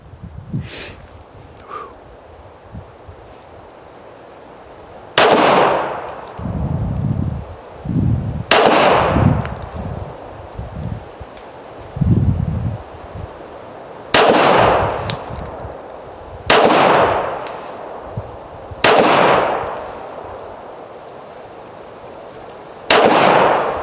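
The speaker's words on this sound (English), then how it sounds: "Now I will shoot the Remington at the number 3." Loud, sharp shots from a Remington 1911 pistol crack out six times at uneven intervals. Each report has a short ringing decay, with quiet gaps between them.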